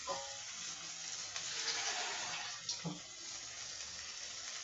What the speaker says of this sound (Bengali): পানি দিয়ে দিলাম।